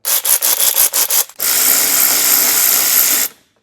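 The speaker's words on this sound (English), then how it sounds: "So we need our long 10mm because there's a bolt right inside there that we need to get out." A ratchet on a long 10mm socket backs out a bolt during an A-pillar mount install on a Jeep Wrangler JL: a run of quick, loud clicking strokes, then a steady, close rasping stretch that cuts off.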